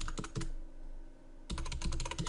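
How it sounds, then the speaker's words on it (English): Rapid keystrokes on a computer keyboard as a product description is entered into a spreadsheet invoice template, two close bursts of clicking separated by a short pause, with no speech. "we're going to type in product"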